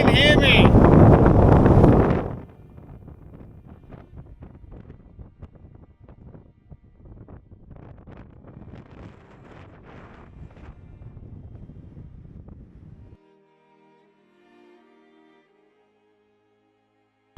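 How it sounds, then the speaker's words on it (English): Strong North Dakota wind slams into the microphone in a loud roaring buffet at the start, then drops to lighter gusty rumbling under a voice, before quieting almost completely. "North Dakota's a little windy."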